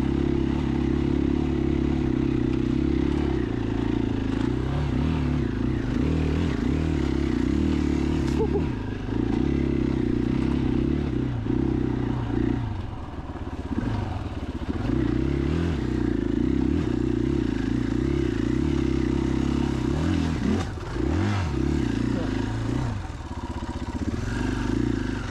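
A 2021 KTM EXC-F 500 dual-sport motorcycle rides off-road in rain at Johns Peak OHV, its engine droning steadily and loud throughout with rising and falling revs and rattling clatter, close to the rider.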